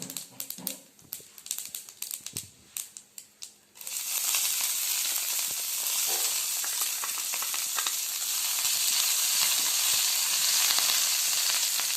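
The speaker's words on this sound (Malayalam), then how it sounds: "ഇനി അതിലേക്ക് നമ്മൾ കറിവേപ്പില ചേർത്ത് കൊടുക്കുക" Curry leaves go into hot oil where mustard seeds have already popped. Scattered crackles and taps give way to a sudden loud, steady sizzle that holds close and strong to the end.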